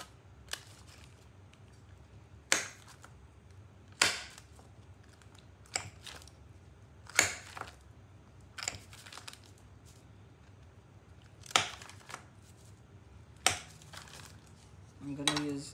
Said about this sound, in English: I'm gonna cut this up in small pieces.